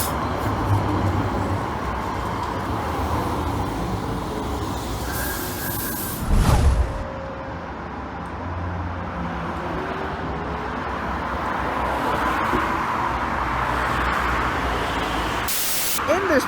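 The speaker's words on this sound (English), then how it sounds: "another noisy tram stop of Netherthorpe Road" Sheffield Supertram at the Netherthorpe Road island-platform stop, a steady rumble of tram and road traffic running throughout, with a brief louder burst midway and a sharp hiss near the end, some voices faintly mixed in.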